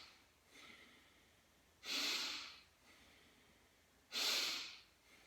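Someone breathes in through the nose with the mouth closed, making two loud close sniffing inhalations a couple of seconds apart over quiet background hiss.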